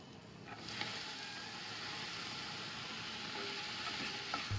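A steady, close sizzle of eggplant sautéing in a pan, continuous and even, with a few faint clinks of stirring.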